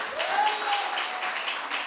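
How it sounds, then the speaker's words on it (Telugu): A church congregation claps together during an Easter service, a dense even wash of applause heard close and steady for a couple of seconds with no voices on top. "చప్పట్లు కొట్టి దేవుడు నామాన్ని మహిమపరుద్దాం."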